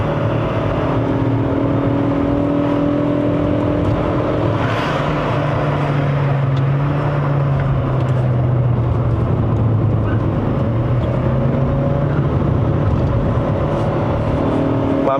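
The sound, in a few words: 2020 Toyota Harrier hybrid SUV accelerating on mountain road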